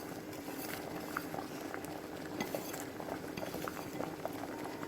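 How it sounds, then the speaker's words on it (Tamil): Water for rava kesari bubbles and simmers steadily in a pan, a constant soft rolling boil with small pops, no talking. "பாருங்கள், நல்லா கொதிக்குது."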